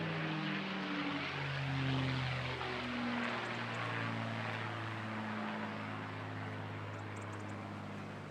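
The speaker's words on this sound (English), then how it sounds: "welcome Steg in the outstandingly wonderful P-51 Mustang." A P-51 Mustang propeller fighter flying over the Bournemouth Air Festival, a steady droning engine with shifting pitch as it passes at moderate distance, fairly even loudness throughout.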